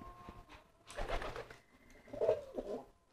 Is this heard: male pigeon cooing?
yes